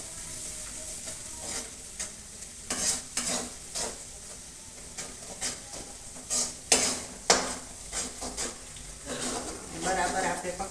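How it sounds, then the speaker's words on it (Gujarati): Red garlic chutney sautéing in a pan, cooked up for Bhavnagar-style potato bhungra, with a steady soft sizzle broken by repeated scraping strokes of a spoon against the pan, fairly close. "તેને આપણે સાંતળી લઈશું જેથી કરીને લસણમાં કચાશ હોય એ નીકળી જાય."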